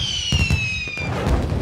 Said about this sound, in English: Look, Junior, Daddy's bought some fireworks.